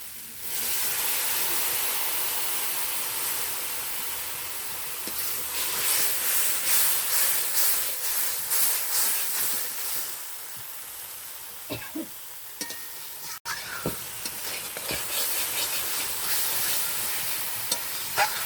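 Water poured onto browned frying masala for a prawn and carrot curry, setting off a loud close hiss and sizzle followed by scraping stirring and a few sharp utensil knocks.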